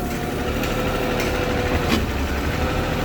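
A small excavator's engine runs steadily at a constant drone while its hydraulic pressure is set with a gauge, with a few faint clicks over the hum.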